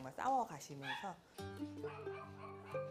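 Abandoned dogs, about forty of them, at an adoption center yip and whimper in short, high bursts, with a narrating voice speaking steadily over them.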